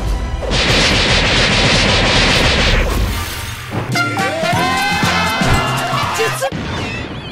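AK-47 fire in the Roblox game Blox Fruits: a loud, dense burst of rapid rifle shots runs for about two and a half seconds, then gives way to clattering in-game effects and tonal game sounds.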